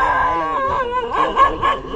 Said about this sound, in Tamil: ஒன்று பார்த்தா குலைக்குது எல்லாமே.